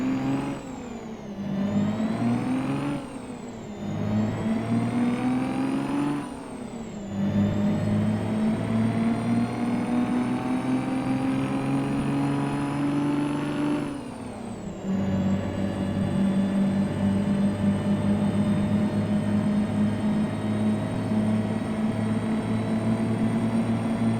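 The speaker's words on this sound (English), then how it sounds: "You can hear the supercharger whine along with the turbos. The supercharger noise goes up with engine speed." A custom Peterbilt truck in American Truck Simulator gives a loud, close supercharger whine over turbo whistle. The whine climbs in pitch with engine speed, dips briefly at each of several gear shifts, then holds a long, steady high whine.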